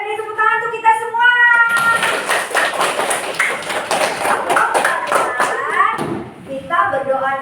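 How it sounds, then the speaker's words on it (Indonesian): A classroom of children claps hands in a burst of loud, rapid applause lasting several seconds, with a voice and children speaking just before and after it. "beri tepuk tangan untuk kita semua"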